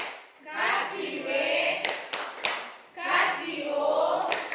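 A classroom of children claps out the tepuk WOW rhythm in two loud bursts of hand claps. The claps are mixed with shouted chanting, and there is a brief pause between the bursts.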